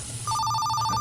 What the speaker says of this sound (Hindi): हाथ होते ही फोन बज चुका है।